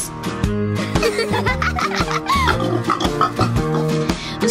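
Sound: pigs oinking in a children's farm song

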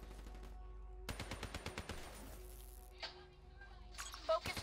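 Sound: gunfire in Black Ops 3 video game

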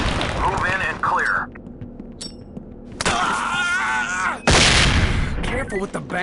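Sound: flashbang grenades going off in the video game SWAT 4

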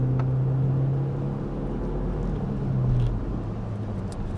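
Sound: BMW 316i Compact engine running on petrol

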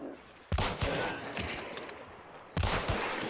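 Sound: gunfire in video game Hunt: Showdown

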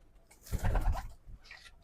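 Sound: pigeons cooing

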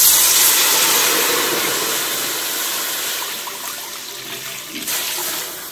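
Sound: water poured into a cooking pot

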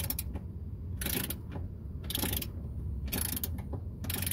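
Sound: ratchet removing van seat bolts

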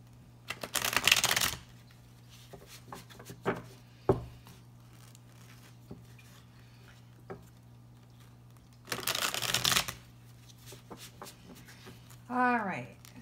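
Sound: shuffling tarot cards

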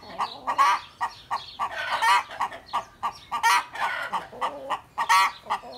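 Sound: chickens clucking

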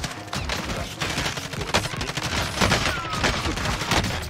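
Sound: gunfire in the video game Call of Duty: Warzone

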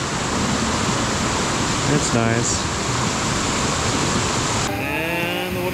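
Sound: small waterfall in a stream, Cocora Valley

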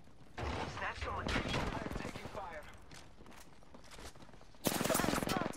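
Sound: gunfire in the video game Apex Legends

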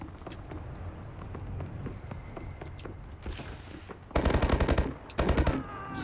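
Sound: gunfire from video game Call of Duty: Advanced Warfare

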